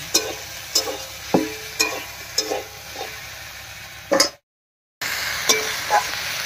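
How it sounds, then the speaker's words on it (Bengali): Kochur loti (taro stolons) stirred in a frying pan over steady sizzling, with a spatula scraping and knocking against the pan at a regular beat, close and clear, broken by a short silent gap and with no talking. "কচুরলতি দিয়ে হালকা একটু নাড়াচাড়া করেছি।"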